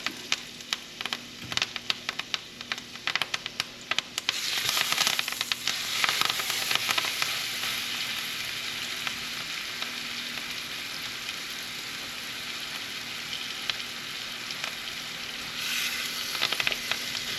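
Steaks sizzle and fry loudly in a hot pot, a steady crackling hiss that swells as more meat goes in and then holds a constant, bright spattering texture.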